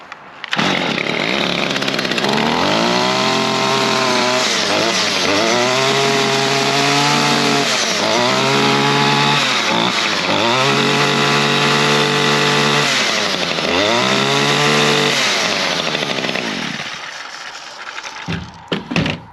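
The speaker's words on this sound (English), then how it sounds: "There you go, running much better." A Stihl FS55 weed eater with a newly replaced carburetor runs loud and close, its two-stroke engine revving up and settling back in repeated surges before cutting off.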